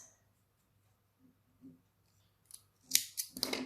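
Scissors snip through loose yarn tails after a figure 8 cast on, giving a few short, crisp cuts close by at the end, following a quiet stretch with faint rustling.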